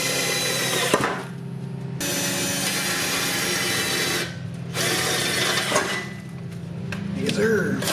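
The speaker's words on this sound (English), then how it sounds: "I got a 5/16 drill bit. I'm going to go ahead and pop through this real quick." A power drill with a 5/16 bit bores a hole in two loud sustained whirring bursts separated by a short pause, close and steady, ending in a rougher grinding as the bit breaks through.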